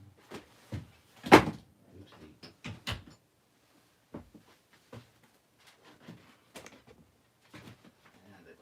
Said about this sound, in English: I just gotta close the door real quick